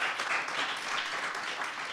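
Audience applause at a university scholar panel, a brief, even burst of many hands clapping together at moderate volume, with no voices over it.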